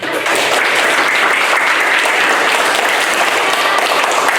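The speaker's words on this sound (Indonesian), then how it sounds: "tepuk tangan sekali lagi ya" A classroom of students claps together in a dense, steady burst of applause that stays loud and close throughout, with no talking over it.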